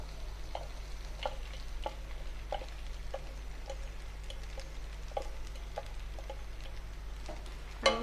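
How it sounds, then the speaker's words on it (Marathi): Sabudana stirred in a frying pan for a fasting-day sweet potato khichdi: soft, scattered scraping ticks at an uneven pace over a steady low hum, fairly faint and close. "आणि साबुदाणा यामध्ये व्यवस्थित मिक्स करायचा आहे।"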